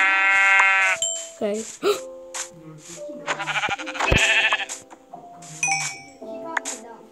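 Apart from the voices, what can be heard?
sheep bleating in a video game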